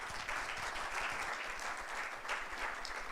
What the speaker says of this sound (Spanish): queremos agradecer con un gran aplauso a Cristian